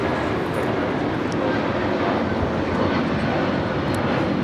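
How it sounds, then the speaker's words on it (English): A United Airlines Boeing 757-200 roars steadily through its takeoff run, a loud, continuous broadband engine rumble holding level throughout with no pauses. "This is United Airlines 1981 taking off to Newark on the 757-200"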